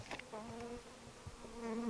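Honeybees buzz in a soft, steady drone with wavering pitch, several insects humming nearby at low volume.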